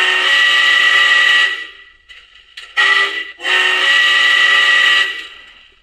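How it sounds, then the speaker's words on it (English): A Milwaukee-style steam whistle played through a Blunami DCC sound decoder in an O gauge model train: two long, loud, chime-like blasts separated by a few short toots, clear and close. "I believe one of the whistles in here is actually a Milwaukee whistle"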